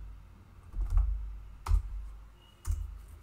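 Computer keyboard keys tapped in a few separate bursts of clicks, close and fairly quiet, with pauses between them in a quiet room.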